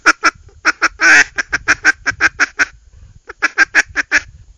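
A Foiles Timber Rattler duck call blown close up in a quick run of raspy quacking notes, then a brief pause before a second rhythmic run; no talking.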